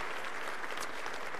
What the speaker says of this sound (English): So may our applause be our way of saying thank you.